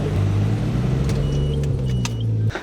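A Nissan Skyline 240sx fitted with a new Mishimoto radiator idles with a steady low engine hum, then shuts off abruptly near the end, leaving a brief faint rattle.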